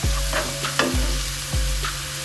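Ginger garlic paste frying in a pan for chicken biryani, with a steady sizzle and a few scraping stirs of a spoon recurring about every half second to second.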